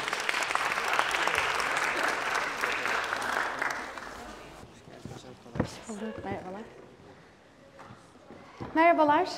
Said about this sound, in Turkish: Onu alkışlarla sahneye davet ediyoruz.